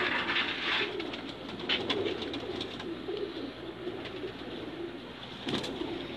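Pigeons on a city rooftop coo softly and repeatedly, a low throaty rhythm close by over faint background noise.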